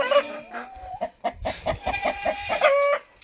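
A large rooster on a small farm crows and clucks loudly and close by, with repeated sharp calls through most of the moment and a drawn-out crow near the end.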